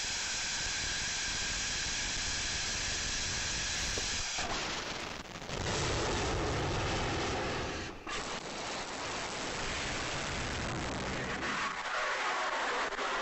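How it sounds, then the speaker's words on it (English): A rotating detonation rocket engine fires on a test stand, giving a continuous harsh roaring hiss with a rattling, crackling texture, loud and sustained, briefly dipping a few times before resuming. "So that's a rotating detonation engine."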